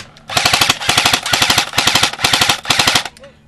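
Rapid automatic gunfire from a team deathmatch shooter video game, loud and close, fired in about five sustained bursts with short gaps between them, with no talking.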